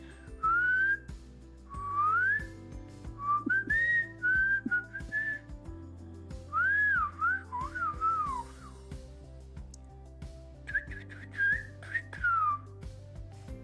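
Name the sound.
airy human whistling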